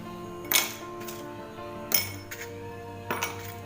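Ice cubes drop into a drinking glass one after another, three bright clinking impacts spaced over a few seconds, each ringing out briefly over a soft background hum.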